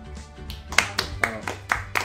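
A small group clapping in a handful of sharp, spaced claps at close range, mixed with voices and low background noise during a casual game show between friends.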